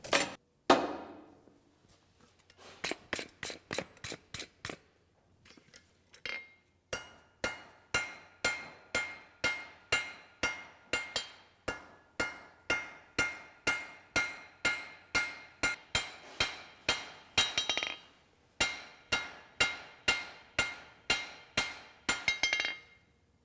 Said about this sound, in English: People sometimes ask about the tapping at the anvil here when I'm missing or not hitting the steel.